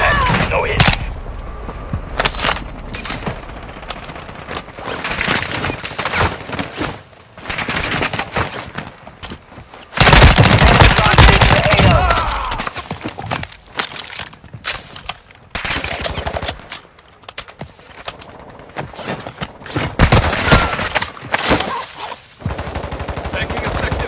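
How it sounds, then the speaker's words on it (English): Gunfire in the video game Warzone 2: repeated bursts of automatic fire and shots, with a loud heavy volley near the middle, mixed with game voice lines and battle noise throughout. "Taking effective fire."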